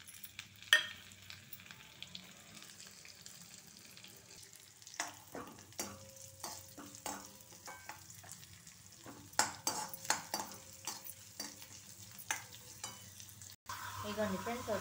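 Mustard seeds, cumin, urad dal and green chillies tempering in a hot pan: a soft crackling sizzle with scattered pops and occasional utensil scraping, close and moderate, with no talk.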